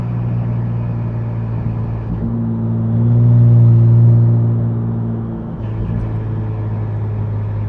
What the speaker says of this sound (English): when these cars are on dumps and you let off the exhaust, that ass sounds like a diesel.